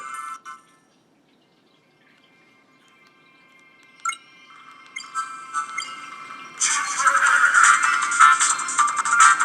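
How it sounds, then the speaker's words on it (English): Game audio plays from a Trimui handheld console: a quiet stretch with a few electronic blips, then a louder, rough, distorted burst of bright tones, close and alone. "A little rough on the audio. We'll go ahead and push link. A little distorted."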